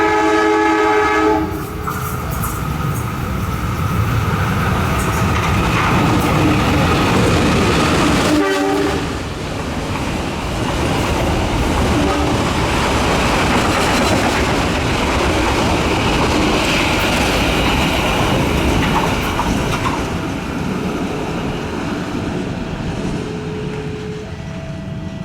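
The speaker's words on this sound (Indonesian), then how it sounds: "Kereta api Penataran sudah melintas." The Penataran passenger train (KA 371) passing close by: a loud horn blast at the start, then a long, steady roar and rattle of wheels and cars rolling past.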